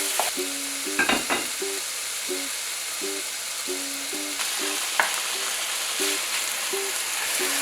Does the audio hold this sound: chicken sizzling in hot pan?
yes